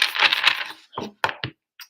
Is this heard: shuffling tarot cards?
yes